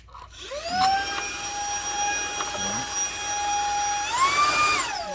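A Montanc cordless floor vacuum cleaner by Bluefeel Korea whines steadily at close range, its motor pitch rising sharply near the end before dropping off, with a few faint bumps along the way.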